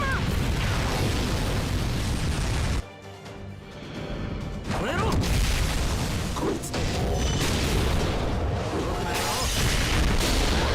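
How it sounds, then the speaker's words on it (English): A loud burst of gunfire in Fate Grand Order cracks out over a dense game soundtrack, followed by a sudden drop and then a swelling return of layered effects. "That was a loud gunshot."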